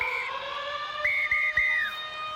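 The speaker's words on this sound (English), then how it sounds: "Here comes the siren." Full-time siren sounding at an NRLW women's rugby league match, a steady high tone that holds, drops away, then returns in two longer sustained blasts over faint crowd noise.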